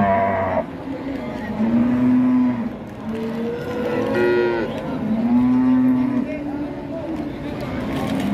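Cattle at a livestock market, including a Limousin bull, low drawn-out moos repeating several times at close range over a busy market hubbub, with people talking throughout.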